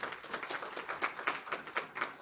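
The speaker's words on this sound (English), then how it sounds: "Please let us give them a round of applause." Audience applauding the Inspector General and DCI at an election commission event: steady, dense clapping from a crowd of many hands, continuous throughout with no voices over it.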